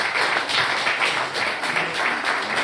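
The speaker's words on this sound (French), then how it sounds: "On peut l'applaudir" An audience in a French-speaking hall bursts into steady, dense applause, many hands clapping at once in a continuous wash with no talk over it.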